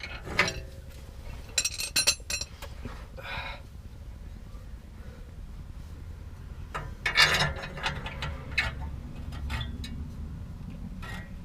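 A ratchet tightens bolts on a car exhaust with bursts of quick clicking and metallic rattles, close and fairly quiet over a low background hum.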